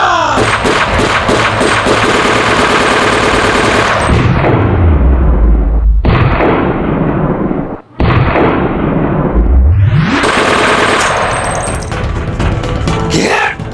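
Rapid gunfire rattles through a Bengali movie action scene, loud and dense at first, then giving way to deep booming thuds and a rumbling sweep before more heavy firing returns.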